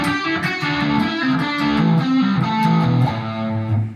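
Distorted electric guitar running a pentatonic box shape with three added Dorian notes, a steady stream of picked notes in a repeating pattern, loud and close with no talking.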